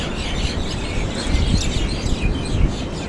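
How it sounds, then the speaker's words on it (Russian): Many birds chirp loudly and densely outdoors in Haifa in the evening, a continuous chorus of overlapping tweets close by. "Там птичек, представляете, как громко они там цикают."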